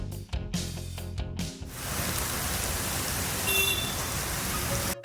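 Heavy rain pours down as a dense, steady hiss, following a brief burst of music at the start.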